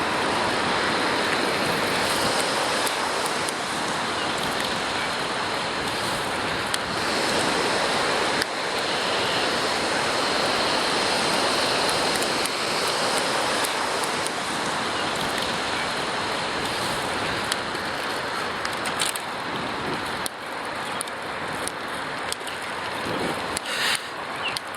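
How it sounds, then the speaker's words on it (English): The Don River in Toronto runs high after a day of rain, a loud, continuous broadband rush of water that stays steady throughout with no talking. "there's a look at the river, which is carrying a lot more water than it usually is"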